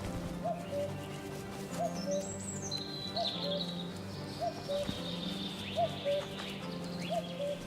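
At dusk, a tawny owl gives repeated short calls at a steady rhythm. The calls are faint and distant over a quiet woodland background, where other birds chirp now and then.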